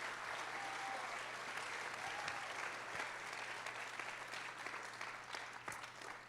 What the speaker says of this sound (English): let's have some thunderous applause for these two